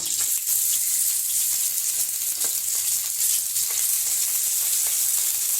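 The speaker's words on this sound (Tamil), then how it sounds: "இப்போ இலையில கட்டின மீனை நம்ம இதில் பொரிச்சு எடுத்துடலாம்" Fish wrapped in banana leaf frying in hot oil on a dosa griddle, a loud, dense, unbroken sizzle from start to finish with faint occasional crackles.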